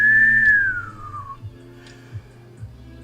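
A human voice imitates the R2-D2 droid, one high whistled tone that holds and then slides downward, followed by soft low thumps and clicks.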